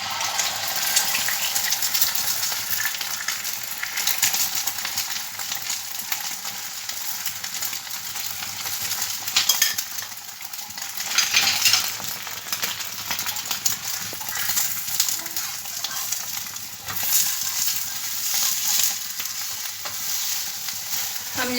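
Beaten egg and two to three spoons of oil frying on a hot tawa for egg paratha, a steady broadband sizzle and crackle that swells and dips throughout, close and fairly loud with no talking.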